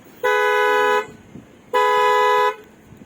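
Two long, loud car horn blasts from a 2013 Honda Accord's remote find-car function, each about a second, separated by a short pause, sounding close by.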